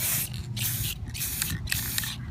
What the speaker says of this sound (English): This is another Krylon spray paint,